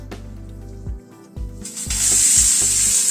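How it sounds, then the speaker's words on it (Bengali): Chopped onions frying in a pan, the sizzle starting low with a few soft knocks, then swelling into a steady, loud hiss that fills the last second and a half. "পেঁয়াজটাকে দিয়ে একটু ভেজে নিচ্ছি"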